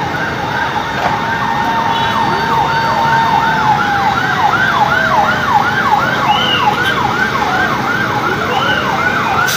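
A fire truck siren wails in a steady, rising-and-falling cycle, loud and continuous over a murmur of street and traffic noise at a building fire in Pinagbuhatan, Pasig City.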